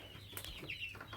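Chickens, including hens and roosters with young chicks, clucking softly in a backyard coop, a short faint burst of clucks and a brief wing flutter close by.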